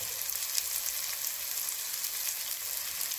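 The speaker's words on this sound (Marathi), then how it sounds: "गॅस कमी करायचा आणि हे सगळं व्यवस्थित भाजून द्यायचं" Spices for sprouted moth bean usal roast over low gas in a black iron pan, giving a soft, continuous sizzle and crackle with no voices.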